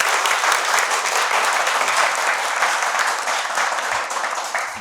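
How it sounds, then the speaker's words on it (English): Studio audience applauding two school teams at a climate quiz show, a dense, continuous roar of many hands clapping that holds steady and tapers slightly at the end. "Ladies and gentlemen, round of applause."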